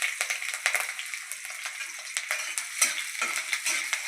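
Green chillies hit a hot frying pan along with garlic while making egg noodles, giving a close, crackling sizzle with scattered stirring and scraping clicks throughout.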